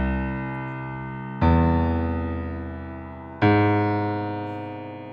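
Three sustained synthesized tones spaced as an equilateral triangle on the twelve-note circle, each entering with a sharp onset and slowly decaying, the second and third layered on the earlier ones into a rich held chord.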